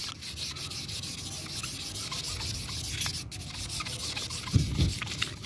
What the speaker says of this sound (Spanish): Yo estoy lijando hasta acá porque hasta aquí me vine lijando